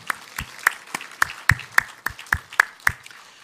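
A church congregation at a Sunday morning service in Korea gives a short round of scattered, fairly sparse applause, with a few distinct hand claps at an uneven rhythm.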